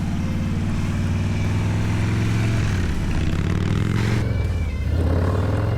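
A Harley Lowrider S motorcycle accelerates hard with a loud, continuous engine roar close by. The rumble swells and shifts in pitch as it pulls through the gears, with wind noise over it.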